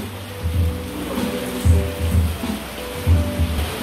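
Heavy rain pouring during a typhoon flood in the Philippines, a broad steady wash of water noise with deeper rumbling surges that swell and recede every second or so, loud and close with no speech.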